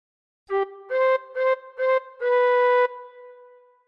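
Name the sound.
tin whistle playing We Wish You a Merry Christmas phrase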